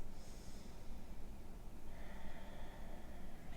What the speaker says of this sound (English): I want you to emphasize your exhales